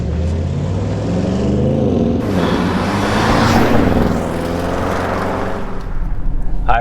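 A 2021 Audi RS7 drives with a steady, loud engine note and road noise, swelling briefly as it accelerates before settling back to a continuous cruising drone heard from inside the car.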